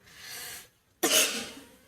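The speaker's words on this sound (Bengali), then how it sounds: "কাশি হচ্ছে খুব" Two harsh coughs from a person: a softer, breathy one first, then after a short pause a louder, sharper burst, close and with no talking.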